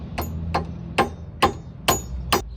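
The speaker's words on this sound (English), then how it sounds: "just grab a flat head and a hammer, and you want to tap in the middle" Six sharp metallic taps of a hammer on a flat-head screwdriver against an axle nut on a Mitsubishi Lancer Evolution X, evenly spaced about half a second apart, ringing briefly over a low background hum.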